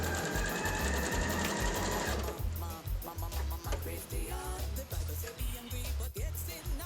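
A sewing machine stitches fabric for a bouffant hat, its needle running in a steady fast mechanical chatter that starts loud and dense, then turns into shorter bursts with brief pauses, close up and alone.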